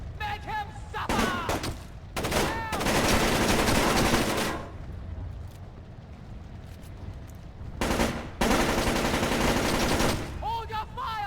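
Video game gunfire in Splinter Cell: Chaos Theory: loud bursts of automatic fire in several long volleys with brief gaps between them. Shouting voices come in between the bursts.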